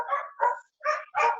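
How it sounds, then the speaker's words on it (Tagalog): Dogs bark nearby in a home setting: four short, moderately loud barks in quick succession with a brief pause before the last two, no voices. "Kasi tahol ng tahol yung mga aso."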